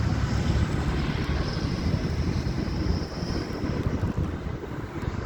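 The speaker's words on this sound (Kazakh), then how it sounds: "Ауа райы салқындау, жел болып тұр." Steady outdoor wind buffets and rushes in Aktobe, Kazakhstan, a continuous roaring gust noise with no voices.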